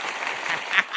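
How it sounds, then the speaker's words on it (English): A short burst of crowd applause rolls on steadily, a loud wash of many hands clapping together and swelling slightly near the end. "Give him a round of applause"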